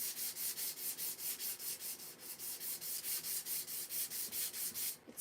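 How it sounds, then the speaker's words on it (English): An electric sander scrubs back and forth across a black-finished wooden piece from a coffee bar kit, producing a rapid, even train of rhythmic rasping strokes, close and moderately loud. "I'm just going to make sure this isn't going to turn white from my sander here."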